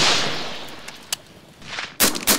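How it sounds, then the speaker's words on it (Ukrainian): RPG fire at mock enemy vehicles during a National Guard military training exercise: a loud opening blast fades out, a few sharp cracks follow, and two more heavy bangs land near the end. "Умовну ворожу техніку нищать з РПГ."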